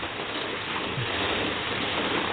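Steady rain hissing continuously, a dense even wash of drops with no voices and no letup.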